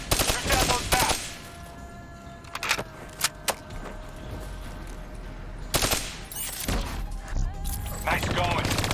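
Gunfire rattles in Call of Duty Black Ops III as bats are shot down. Loud bursts and single shots come in clusters at the start, in the middle and near the end, with quieter game ambience between them.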